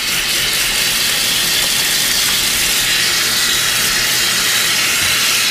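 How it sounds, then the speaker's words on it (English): Tap water runs hard and steady into a sink during a quick hand wash in a home kitchen. The hissing rush is loud, close and unbroken, with no voices. "Wash my hands really quick."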